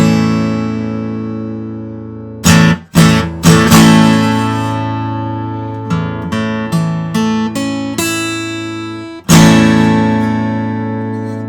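A chord is strummed down across the strings of a guitar several times: loud ringing downstrokes, then a run of lighter individual plucks, then one more full strum left to ring and fade.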